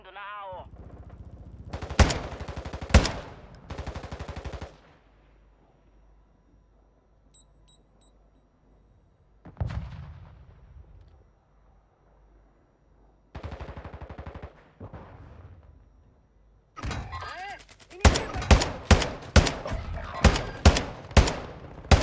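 Gunfire from weapons in the video game Call of Duty Warzone 2.0, sharp shots in scattered bursts, ending in a fast run of loud rapid shots, with quieter stretches and game beeps between.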